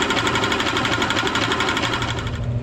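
Close, continuous hissing spray as primer goes onto the gas tank of a 1974 Honda XL250 motorcycle. It is loud and steady, with a slight pulsing, and no one talks.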